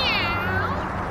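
A cartoon cat gives a single drawn-out, wavering meow, loud and close, sliding downward in pitch over about a second, with a murmur of background sound beneath.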